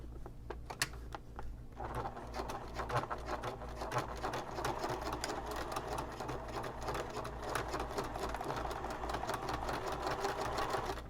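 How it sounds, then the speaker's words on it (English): A sewing machine runs steadily for about eleven seconds, stitching back and forth through overlapped strips for a braided boho bag, a close, even, rapid patter with no pauses. "I sewed back and forth a few times so that it is sticking together really well."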